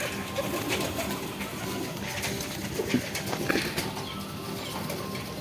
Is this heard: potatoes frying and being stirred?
no